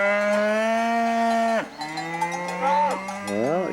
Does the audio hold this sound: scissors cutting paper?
no